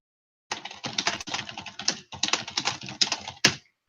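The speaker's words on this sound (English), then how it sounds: "I can hear you typing" Rapid typing on a computer keyboard, a dense run of close, clattering keystrokes in bursts with one brief pause, heard alone without talk.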